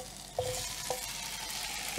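Cut peaches sizzle quietly in a pan over medium heat, a soft steady frying hiss with two light clinks of utensil against pan early on, no voices.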